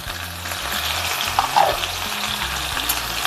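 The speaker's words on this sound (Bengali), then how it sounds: "কুচনো পেঁয়াজ, রসুন আর কাঁচা লঙ্কা দিয়ে দিচ্ছি।" Chopped onion, garlic and green chilli fry in hot oil for a Punjabi kadhi pakora, giving a steady close sizzle with a few brief stirring scrapes partway through.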